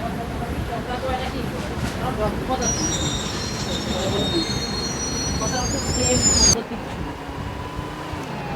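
A train in a realistic Indian video game rumbles steadily with high metallic wheel squeal rising midway, then cuts abruptly to a quieter hum; game-like sound design.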